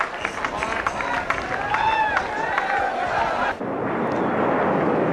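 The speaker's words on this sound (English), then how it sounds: "Air Force fighters overhead." Air Force fighter jets roar overhead above a cricket Test match between Australia and Pakistan, a broad rumbling swell that grows heavier toward the end, mixed with crowd noise and a commentator talking over it.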